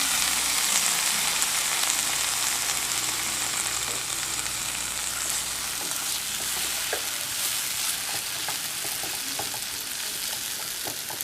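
Brinjal cooks in a pan for a Tamil vazhuthananga dish, with a steady, loud sizzle up close, occasional stirring clicks, and no talk.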